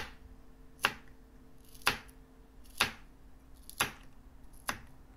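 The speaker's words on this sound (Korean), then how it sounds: "칼을 이용해서 적당한 크기로 썰어줍니다." Five sharp knife chops at a steady pace, each a crisp crunching slice through firm watermelon onto a board, close and clear with no talking.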